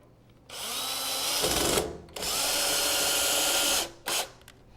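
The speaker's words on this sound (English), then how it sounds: "the next step is just to mount it with a few screws" A power drill drives screws to mount a plumbing master rough-in: two long, loud, steady whining runs close by, then a short final burst, with no talk.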